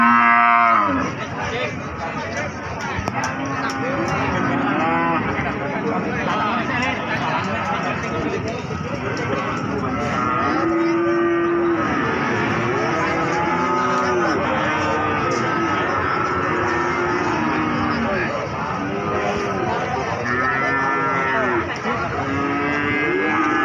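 Cattle at a busy livestock market in Pati, with many overlapping moos near and far over a continuous crowd murmur, and people talking throughout.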